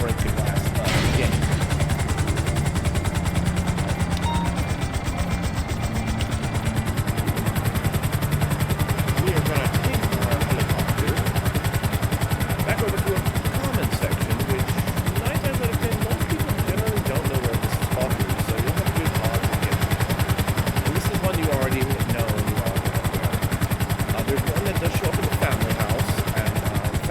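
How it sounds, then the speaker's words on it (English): A helicopter flies in the roleplay game Grand RP, a loud, continuous rotor and engine drone that fills the whole stretch with a steady, dense roar and no break. "I'm going to use the helicopter instead"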